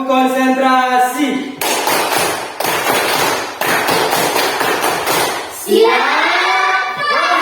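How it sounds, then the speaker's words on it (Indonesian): A classroom of pupils performs a concentration clapping routine, sharp unison claps in quick rhythmic bursts, loud and close, with chanted voices before and after. "Oke, tepuk konsentrasi."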